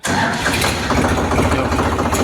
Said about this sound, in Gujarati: ક્લચનું પેડલ દબાવી રાખો પછી જ આ ટ્રેક્ટર ચાલુ થાય. તો હવે ચેક કરવાનું સ્ટાર્ટિંગ.